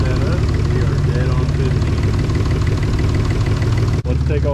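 A Nissan 300ZX engine idles with a steady, smooth low rumble throughout after timing adjustments, close and consistent, with a brief sharp click near the end and voices talking over it.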